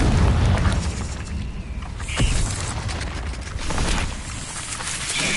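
Blasting-spell explosions from Hogwarts Legacy on PS4 rumble through dense game action, with a sharp burst near the middle standing out among continuous low booms and clatter.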